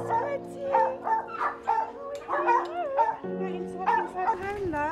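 Dogs in a kennel yip, whine and bark in short bursts nearby while a person talks over them.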